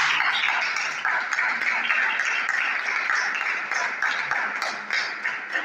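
Congregation at a church youth meeting applauding, a steady, dense wash of clapping that holds at an even level throughout, with faint voices mixed underneath.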